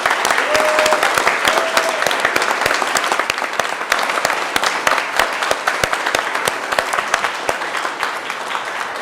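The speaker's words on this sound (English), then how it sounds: "let's have a huge round of applause for our PD team." Audience applause fills the hall at the 2025 Three Minute Thesis (3MT) finals: a dense, sustained round of many hands clapping, loud and steady for about nine seconds with no talk over it.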